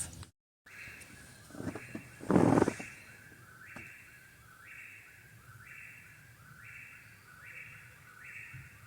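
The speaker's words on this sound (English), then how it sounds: "This bird has been going on for about 20 minutes now." An unidentified bird calls repeatedly at night along the Appalachian Trail, a faint, evenly spaced series of short notes over quiet background hiss, after a brief louder rustle near the start.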